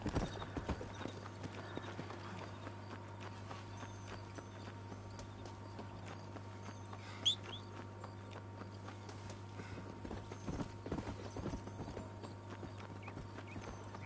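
Horse hooves clip-clop at a walking pace in the Red Dead Redemption video game, soft and steady under a constant low hum, with one brief sharper knock midway.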